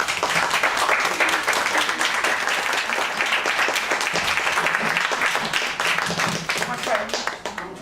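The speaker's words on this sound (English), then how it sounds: "Let's give him a big round of applause." Audience applause at an open mic night, steady dense clapping from a crowd holding at an even level for several seconds before thinning slightly at the end.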